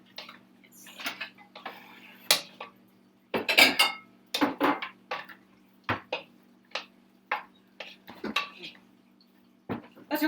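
Ceramic bowls taken down and handled in a home kitchen during fried rice cooking, with a series of clinks, knocks and clatters spread irregularly through the stretch, a low hum underneath and occasional voices.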